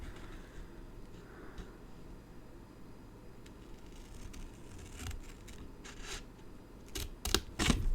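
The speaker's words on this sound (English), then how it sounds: "I'm literally going to cut a straight line down there. So I'm going to use my Stampin' Up scissors." Stampin' Up scissors slice a straight line down a sheet of card, giving a soft steady scraping crunch over quiet room noise, with a few louder snips and rustles near the end.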